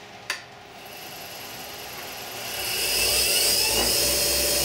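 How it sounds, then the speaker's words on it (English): A polishing machine spins up on a Taylors Mirfield Kappa fountain pen worked with Yorkshire grit: a sharp tap, then a rising whine and hiss that grows louder and steadies into a continuous high buzz. "And then we'll start polishing these now with Yorkshire grit."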